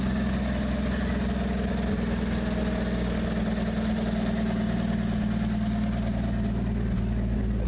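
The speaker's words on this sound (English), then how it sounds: "Exhaust is blown out, but hey, it runs." An engine with a blown exhaust and a knock-off Rochester carburetor idles steadily with a low, rough rumble and throbbing exhaust note, constant throughout with no talking.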